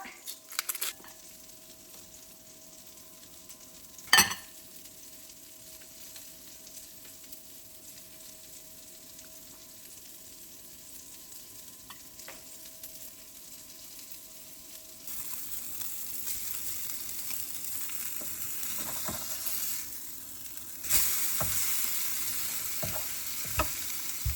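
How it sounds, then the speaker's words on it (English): Breaded schnitzel fries in a pan with a steady, fairly quiet sizzle that swells louder near the end, broken by a sharp clack near the start and a few small utensil taps. "Now I'm gonna fry this."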